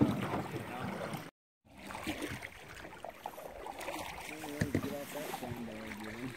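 A canoe is paddled through water on a winter trip, with soft splashes and strokes under wind noise, and a brief gap of silence near the start.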